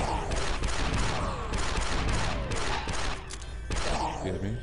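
Sustained automatic blaster fire from the player's weapon in Star Wars Republic Commando, loud bursts repeating through the clip amid game battle noise, with a voice talking over parts of it.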